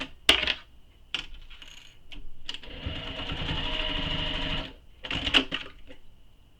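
A sewing machine stitches a mini messenger bag in short bursts, with a longer steady run of fast mechanical whirring in the middle and sharp clicks at the starts and stops.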